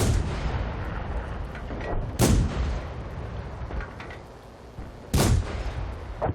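A tank cannon fires in the World of Tanks game, two loud booming shots about three seconds apart over a dense, rumbling battle background.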